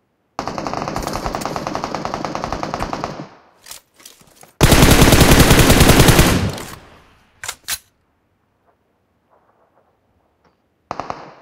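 Bursts of rapid automatic gunfire in a battle royale game, two long loud volleys followed by a few scattered single shots and a short final burst, separated by silence.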